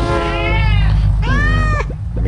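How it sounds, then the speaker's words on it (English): A tabby cat character in the Crossy Road video game lets out two drawn-out, loud meows close up, followed by a few shorter chirping calls. "Kind of sounds like a fighter cat."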